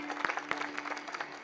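An audience at a Marathi kirtan performance claps together in a dense, steady wash of applause that carries through the whole short moment without letting up.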